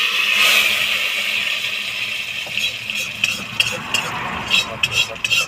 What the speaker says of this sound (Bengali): ফোড়নটা খিচুড়ির মধ্যে ঢেলে দেবো।